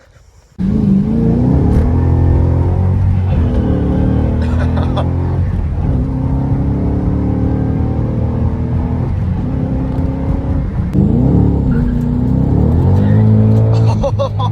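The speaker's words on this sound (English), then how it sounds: "That was squealing tires to like 45." Ford Mustang GT500 accelerating hard with squealing tires: a loud, close engine roar that climbs in pitch through surging revs, with a brief break and a fresh surge late on.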